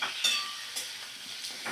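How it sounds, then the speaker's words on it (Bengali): Tomatoes fry in a little oil on a medium gas flame, making a soft, steady sizzle broken by a few short scraping stirs, heard up close without talk. "এবার আমি সুন্দর করে ভাজা করে নিচ্ছি টমেটো।"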